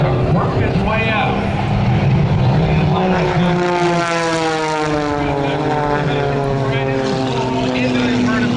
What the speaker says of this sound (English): He's going to start the jet truck, work his way out.